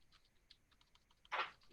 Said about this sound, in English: I'm just typing in the YouTube chat under Cubby's account